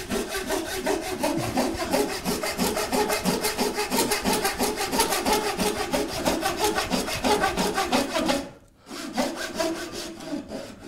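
A hand saw cuts a wooden dovetail joint with loud, close, evenly paced rasping strokes back and forth, pausing briefly before the sawing resumes, with no talking.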